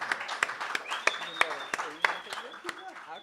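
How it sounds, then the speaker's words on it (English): A small audience claps sparsely and unevenly for a few seconds after a collaborative concert, with separate hand claps over continuous talking. "Let's give ourselves a round of applause."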